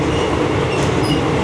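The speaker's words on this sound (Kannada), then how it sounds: "ಯಾಕಂದರೆ ಬಾರ್ಡರಿಗೆ ಹೋಗ್ತಾ ಇದೆಯಲ್ಲ ಟ್ರೈನು" Passenger train rolling toward the Thailand–Laos border near Nong Khai, heard from inside as a steady, loud rumble with a faint metallic squeal now and then, no voices.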